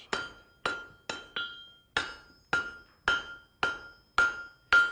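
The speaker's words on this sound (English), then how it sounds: "If you didn't hear any blacksmiths hammering" Blacksmith hammering metal on working 1908 equipment in a village smithy: ten sharp, ringing strikes in a steady rhythm, each with a metallic clink and short decay, close and alone with no talk.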